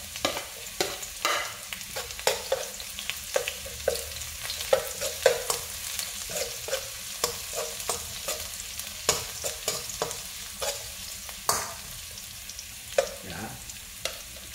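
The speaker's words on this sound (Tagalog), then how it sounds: "Umpisa na po natin maggisa ng bawang." Garlic and chili sautéing in a pan, a steady sizzle punctuated by repeated scraping stirs of a spatula, close and clear with no talking.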